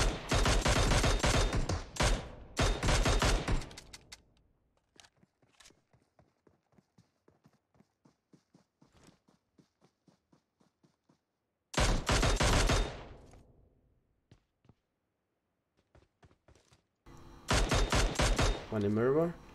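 Bursts of automatic gunfire in the video game PUBG: a dense volley opens, followed by a run of faint, evenly spaced single shots, then two more loud, rapid barrages later on.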